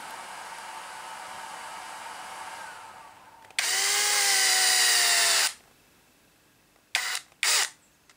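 A power screwdriver whirs for about two seconds as it drives a screw into the axle of a 1/14-scale LC Racing RC car kit, then gives two short bursts; the motor is loud and close against a quiet room.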